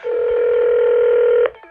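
A single sustained telephone dialing tone sounds loud and clean for about a second and a half, then cuts off abruptly, with a brief click right after and no talk.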